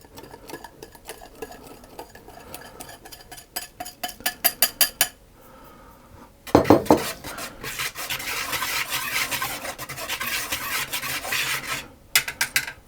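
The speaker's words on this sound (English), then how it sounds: "tip it into a larger bowl and give it another stir around" Muffin batter for hot cross muffins stirred in a bowl, first rhythmic scraping strokes, then a louder sustained scraping and rubbing of the spoon against the bowl.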